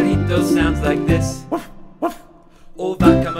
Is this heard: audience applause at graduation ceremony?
no